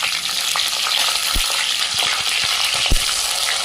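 Cumin and mustard seeds splutter in hot oil with a steady dense sizzle, punctuated by several sharp low pops from bursting seeds, close and fairly loud with no voices.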